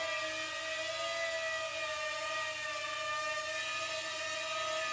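Syma X51 toy drone with prop guards hovering, a steady high-pitched whir of small propellers held close and loud throughout, with no talking.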